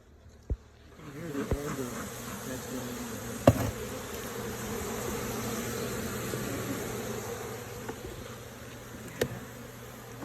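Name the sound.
angry Africanized honeybees buzzing during hive inspection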